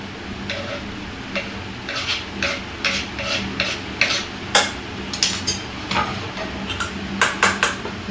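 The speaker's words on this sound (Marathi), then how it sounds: "चांगलं मिक्स करून घ्यायचं" A spoon stirs mixed cabbage and potato in a pan, with a series of sharp metallic taps and scrapes against the pan over a soft background sizzle, irregular and close.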